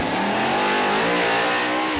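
A drag racing car at a Maryland drag strip, a loud, close engine howl that climbs steadily in pitch as it accelerates hard over a couple of seconds, with no talk.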